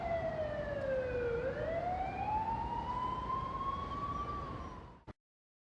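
A police car or fire truck siren wails loud and close, sweeping down and then back up in pitch before cutting off abruptly near the end, with no talking over it.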